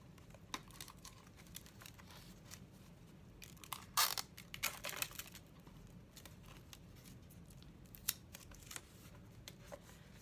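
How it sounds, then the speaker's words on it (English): Tape is pulled and pressed around the end of a tube made from layers of brown paper bag. Faint crinkling and tearing is heard, with a louder burst of ripping and crackling in the middle. No one speaks. "Okay, so we want to tape off this end."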